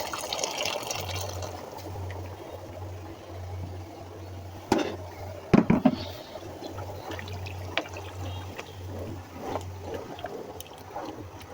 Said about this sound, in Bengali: গরম পানি দিচ্ছি।